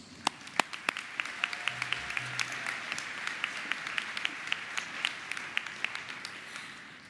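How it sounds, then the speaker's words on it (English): Audience applause at a morning plenary session, a steady wash of many hands clapping at a distance, fairly soft and even, with a few sharper individual claps standing out and no talk over it. "So let's give ourselves a collective round of applause."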